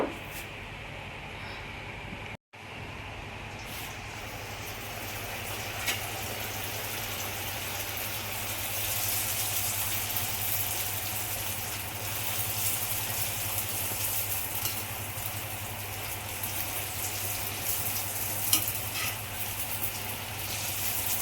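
Bhatura dough frying in hot oil in a kadhai, a steady close sizzle and bubbling hiss that runs continuously throughout with small pops, briefly cut near the start.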